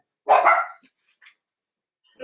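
A dog gives one loud, close bark followed by a couple of faint short yips, then another brief bark near the end, with silence between.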